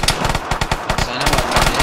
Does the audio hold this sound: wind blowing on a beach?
no